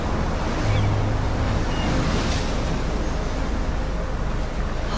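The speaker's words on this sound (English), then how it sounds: "it's a tornado on water" Strong wind and rushing, churning water from a waterspout, a tornado over water in the video game Life is Strange, roar steadily and loudly with no break.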